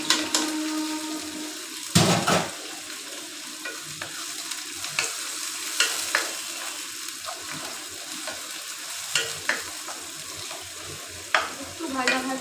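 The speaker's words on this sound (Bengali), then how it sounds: "একটু ভাজা ভাজা হোক।" Spring onion greens fry in a pan while a spoon stirs them, a steady close sizzle broken by repeated scraping clatters, with a sharp knock near the start.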